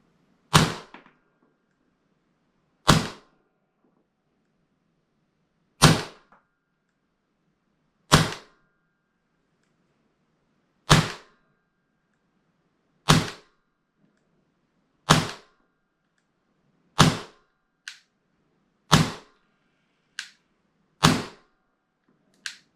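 An airsoft gun shooting BBs at about 297 FPS (1.11 joules) gives a series of sharp, snappy single shots, roughly a dozen, spaced a couple of seconds apart and coming a little quicker toward the end.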